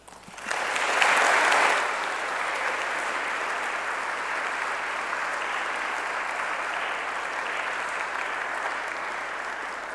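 Steady applause from an audience at an evening talk welcoming author Elizabeth Rush, swelling quickly, peaking briefly, then holding an even, dense clapping for several seconds with no voices.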